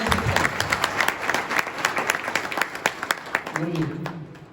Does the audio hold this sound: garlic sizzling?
no